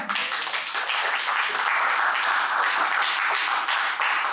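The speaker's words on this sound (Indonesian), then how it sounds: "Mungkin diberikan aplaus dulu ya untuk teman-temannya ya" Applause for students after a classroom project presentation, a steady round of many hands clapping at moderate loudness throughout, without talk.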